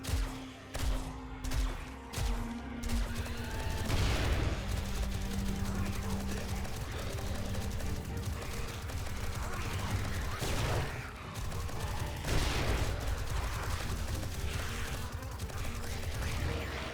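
Gunfire in the zombie survival game 7 Days to Die, a steady stream of rapid shots and crashes running loudly through the whole stretch, with speech-like sounds mixed into the dense noise.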